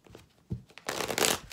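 Tarot cards riffle and slap together, starting with soft taps and swelling into a loud, dense burst of shuffling.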